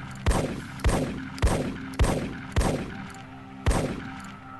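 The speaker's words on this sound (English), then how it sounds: "the last thing I want to show you is the shotgun" A pump shotgun in ARMA 3 fires six loud, evenly spaced blasts about half a second apart, each a sharp crack of scattered pellets with a short ringing tail.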